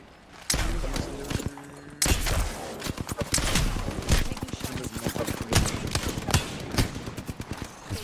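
Rapid gunfire in a shooter video game crackles in quick, loud bursts and single shots, with dull thumps, over a busy game soundscape.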